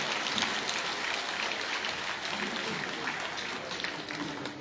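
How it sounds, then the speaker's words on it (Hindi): Loud, dense applause from a large audience at a live poetry event in Rudrapur, steady clapping filling the whole stretch with crowd noise. "पीछे करके लोग हाथ ऊपर करके जोरदार तालियां बजाइए"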